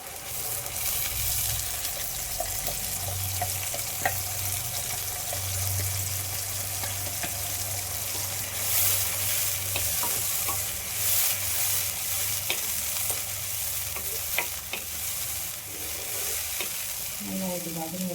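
Onion and tomato sauté in oil for a fenugreek curry, a continuous moderate sizzle with light stirring clinks and scrapes throughout, and a faint low hum beneath.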